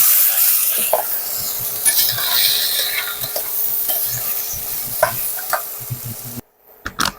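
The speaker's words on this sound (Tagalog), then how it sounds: "Isunod na natin yung sibuyas dahil umaapoy na. Pagkatapos ilagay ang karne." Pork and onion fry in a pan after garlic, giving a strong hiss-like sizzle with repeated spatula scrapes and taps, then a sudden drop to near silence with a couple of final knocks.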